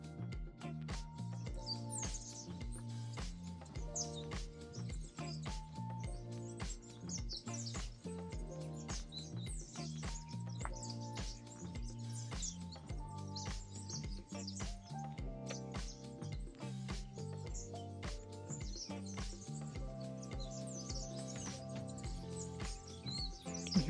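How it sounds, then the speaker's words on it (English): Birds at a freshwater spring pond on Bonaire, with caracaras and many bananaquits, give a dense, steady run of chirps and tweets over a tonal, rhythmic background, fairly close and continuous throughout. "Here's some caracaras and a million banana quits."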